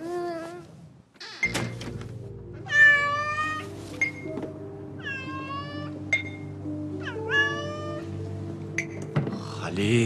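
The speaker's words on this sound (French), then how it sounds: "Ces chats nets sont pénibles." Several cats meow repeatedly, the rising and falling cries coming in short separate bursts over a low humming background, close and clear.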